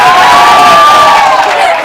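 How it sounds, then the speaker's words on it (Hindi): Audience at a cultural programme and talent award ceremony cheering loudly with crowd noise and shouting, sustained and close for about two seconds, with clapping not clearly distinct in the roar. "हाँ भाई, एक बार और तालियां बजाओ जो।"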